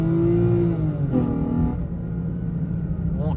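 A car engine held in first gear revs up steadily, its rising drone and harmonics climbing, then drops and climbs again, loud and close throughout with a voice talking over it.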